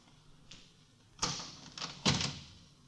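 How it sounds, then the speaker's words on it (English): A door is worked in an old-time 1940s radio drama, two quiet knocking or latch clunks followed by a soft slide or creak, faint and close with no talking. "Well, try the door."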